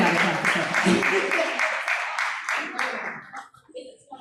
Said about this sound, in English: So, clap it up for Alicia.